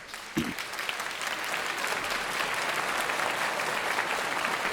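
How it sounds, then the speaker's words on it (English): Symposium audience claps for community sponsors, a dense, even roar of many hands that starts with a sharp clap and holds steady and fairly loud with no voices over it. "Let's give them a round of applause."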